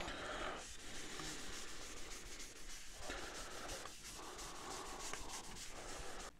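Danish Oil finish rubbed by hand into a rough-turned walnut bowl, a steady close-up cloth-on-wood scuffing with a few short pauses between strokes, no voices.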